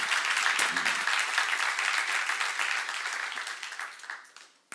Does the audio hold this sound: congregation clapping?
yes